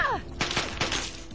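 Gunfire from a 10mm machine gun in a Fallout video game, a quick burst of several sharp shots over about a second, loud and close.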